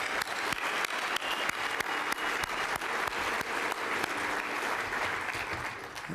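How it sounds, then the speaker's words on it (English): Audience applause at a real estate challenge competition night in Colorado, a sustained crowd of clapping hands with sharp individual claps standing out, holding steady before easing slightly toward the end. "Let's give them a quick round of applause."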